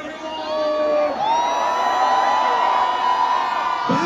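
College festival crowd at Hindu College's Mecca 2023 cheering and whooping before a concert, a dense, loud, sustained roar of many voices with shouts rising over it.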